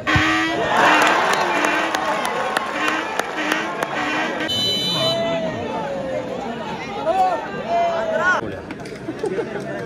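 A big crowd at a sevens football tournament cheers, shouts and claps in loud waves, sharp bursts of applause at first, then a sustained roar of voices with a commentator talking over it.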